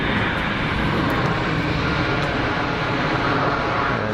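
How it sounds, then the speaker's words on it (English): An EasyJet Airbus A320neo rolls out after landing at Geneva on engine reverse thrust, a loud, continuous broadband roar that stays steady from start to end, with no talking. "rolling out on the reversers."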